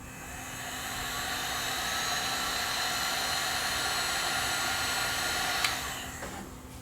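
A heat gun blows on heat shrink tubing over wires inside a vintage replica GE radio, a steady hissing rush with a faint hum that swells up, holds, and drops off near the end after a small click.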